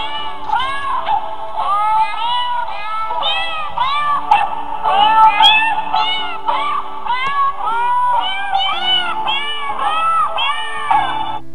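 Cats meow repeatedly in a compilation playing on a screen, overlapping cries rising and falling continuously with a crowd-like, cheering quality, fairly loud with no talk over them.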